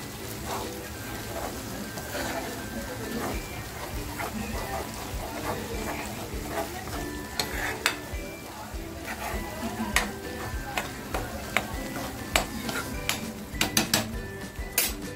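Mutton keema masala sizzles and fries in a pan, with steady stirring and frequent sharp clinks of a utensil against the metal. A few quiet voices come through faintly underneath.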